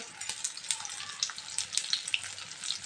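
Cumin seeds and garlic fry in hot oil, a close, busy crackle of pops and spits with a continuous sizzle underneath, no talking.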